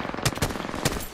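Video game gunfire: three sharp shots in quick succession over a busy background of game noise, loud and close.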